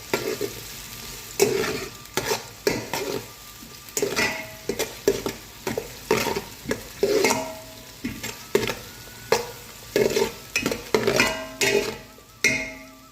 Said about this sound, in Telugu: ఆనియన్స్ కొంచెం కలర్ చేంజ్ అయ్యి కొంచెం బ్రౌన్ కలర్ వచ్చే వరకు మనం ఫ్రై చేసుకోవాలండి.